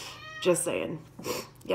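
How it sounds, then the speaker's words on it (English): A house cat lets out one short, clear meow near the microphone, then a person starts talking. "that was my cat."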